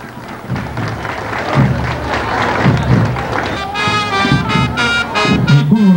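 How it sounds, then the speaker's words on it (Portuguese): Crowd applauding at a school Independence Day parade for Colégio Mailon Medeiros, a sustained wash of clapping with thumps and crowd noise, voices and cheering mixed in. "Salva de palmas, por favor."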